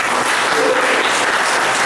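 Sustained, dense applause from an audience at a lecture about Marshal Ney and Napoleon, loud and even throughout with no pauses or voices.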